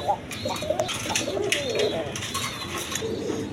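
A pair of native desi pigeons coos close by in repeated soft throaty bursts, with indistinct human voices murmuring underneath.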